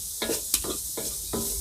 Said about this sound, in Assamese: পিঁয়াজখিনি ভাজি ল'ব লাগিব তেল নোহোৱাকৈ ভাজি লৈছোঁ